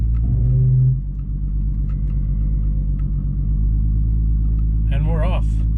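A VR6 turbo car pulls away onto a track at an event, its engine rumbling steadily at close range, with the tone lifting briefly near the end; no one speaks over it.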